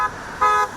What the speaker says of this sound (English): The sound of honking cars and picketing workers have a continued presence outside the Mercy Health East Clinic.